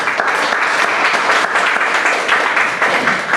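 Congregational applause fills a church, dense, steady clapping from many hands held at an even level throughout with no break.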